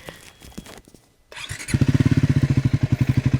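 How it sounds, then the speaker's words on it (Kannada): Triumph Scrambler 400 XC motorcycle exhaust, a single-cylinder engine idling with a loud, deep, rapid pulsing thump that starts after a brief quiet moment and stays steady and close. "ಒಂದ್ಸಲ ಈ ಗಾಡಿದು ಎಕ್ಸಾಸ್ಟ್ ನೋಟ್ ಕೇಳಿಸ್ತೀನಿ"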